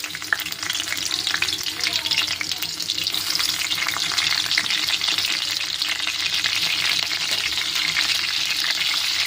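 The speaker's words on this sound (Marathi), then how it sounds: "आपलं तेल गरम झालेलं आहे. तर आपण एक एक वस्तू याच्यात टाकत जाऊ. सगळ्यात पहिले तर आपण मिरच्या टाकू." Green chilies hit hot oil in a kadai, setting off a loud, continuous, crackling fry that swells and holds close by with bursts of spitting throughout.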